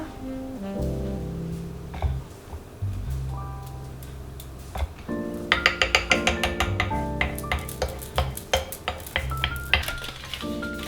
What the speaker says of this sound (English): Stir that a little bit.